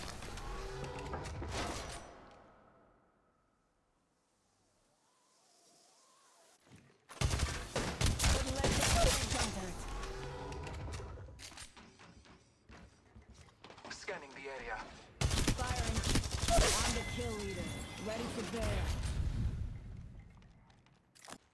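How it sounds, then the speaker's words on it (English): Bursts of gunfire in the Apex Legends Mobile shooter game, loud and rapid, come in several stretches with a quiet gap early on, mixed with in-game voice lines and other game sounds. "Getting shot at."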